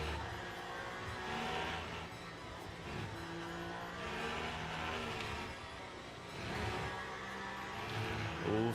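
Endurance race cars in the sim game Le Mans Ultimate, engines droning and revving continuously with faint tyre squeal, held at a moderate, steady level throughout.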